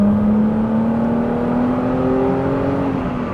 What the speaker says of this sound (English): I can tell that this car is coming back to life, because it is immediately after 6 minutes of driving, it's going through the revs way better